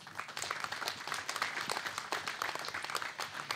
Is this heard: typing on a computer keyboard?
no